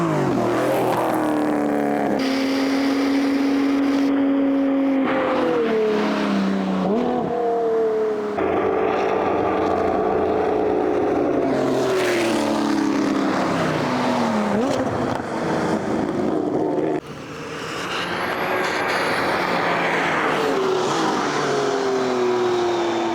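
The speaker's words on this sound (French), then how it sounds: "on va laisser passer les voitures" Cars pass one after another on a road in Andermatt, their engines rising and falling as each approaches and goes by, a continuous loud stream of traffic with shifting engine tones.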